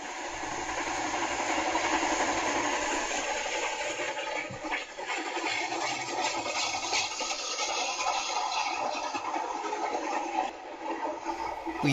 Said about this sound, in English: Then we hear the chuffs of our train as it comes roaring out of the tunnel.